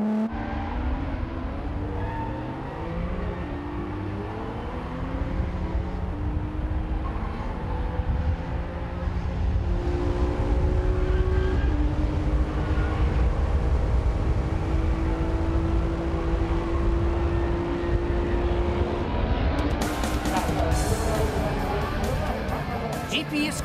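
Car at full throttle accelerating out of the final corner at Fuji Speedway, an engine note climbing steadily in pitch through the gears, heard from inside under an ongoing commentary voice.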